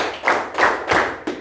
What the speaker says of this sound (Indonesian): Oke, tepuk tangan 4 kali.